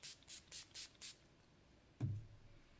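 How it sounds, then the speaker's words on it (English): Five quick hissing spritzes from a makeup setting spray bottle in an even rhythm, then a pause and a soft thud, recorded close and quiet. "Now I'm just gonna set it with some setting spray."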